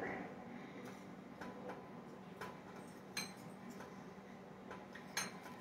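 Butter knives scraping and clinking against a bowl as ingredients for a dessert are cut and blended together, with soft intermittent taps and a few sharper clinks, fairly faint and close.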